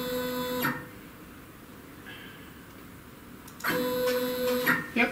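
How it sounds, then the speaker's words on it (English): A SainSMART Genmitsu PROVerXL CNC router jogs its axes, giving off short bursts of tonal stepper-motor whine with a quiet pause between moves. "the program's talking to the CNC machine, okay, we'll just jog it just to make sure it is."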